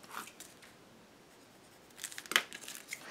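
Paper being cut with scissors for a beginner's mini album project: soft snips near the start, then a quiet stretch, then a cluster of crisp close cuts and crinkles toward the end, with no talking.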